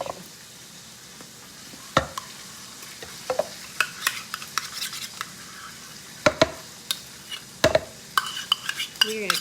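Chicken frying in oil, heard as a soft continuous sizzle under scattered utensil clinks, scrapes and stirring taps from a nearby kitchen.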